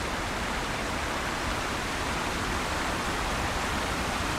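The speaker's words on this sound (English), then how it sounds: "And a lot of noisy waterfalls." Waterfalls in the online game LOTRO, a constant loud rushing roar of falling water with no breaks, filling the whole clip without any voices.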